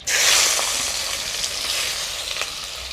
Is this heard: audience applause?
no